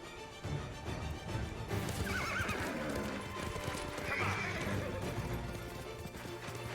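Horse charging in Ghost of Tsushima's Iki Island expansion: steady clip-clop of hooves with neighing and whinnying over a busy game soundscape, loud and continuous throughout.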